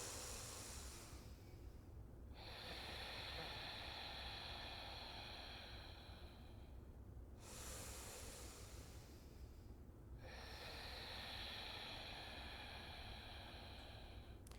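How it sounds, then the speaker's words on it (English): Ujjayi breathing: two long, audible exhalations through the nose with a constricted throat, a steady breathy hiss like fogging a mirror, close and alone, each separated by a brief quiet inhale. "you slightly constrict the back of your throat as you breathe out through your nose"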